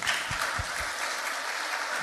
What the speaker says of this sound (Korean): 박수로 한번 드립시다.